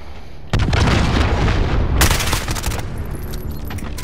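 Cruise missile strikes in Call of Duty Modern Warfare land as loud, heavy booms in quick succession, with rumbling blasts and crackling debris rolling on and fading, no talk.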